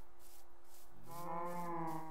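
A cow moos once in a video game, a low drawn-out call rising in from a quiet ambient background and holding steady to the end.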